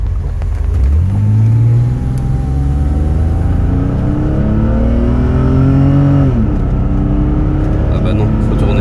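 A German sedan accelerates hard in sport mode with the engine note rising steadily through gears. There is a clear dip at each gear change and loud cabin engine and road noise throughout.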